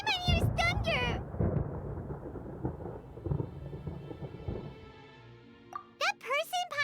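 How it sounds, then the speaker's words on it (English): Deep rumbling thunder in Genshin Impact rolls low and loud for several seconds, fading out gradually, with a character's voice speaking before and after it. "Paimon hears thunder!"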